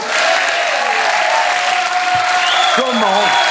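Studio audience applause at a French television talk show, a steady dense wash of clapping throughout with a voice speaking over it.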